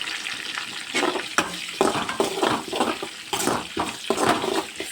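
Curry leaves frying in a pan for a Malnad-style raw jackfruit stir-fry, giving a steady crackling sizzle with bursts of louder spitting and pops, close and fairly loud, with no talk over it.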